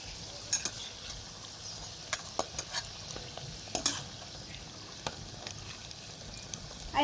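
Potato roll singaras fry in oil over low heat with a soft, steady sizzle, broken by repeated scraping and tapping as a utensil turns them, close and fairly quiet.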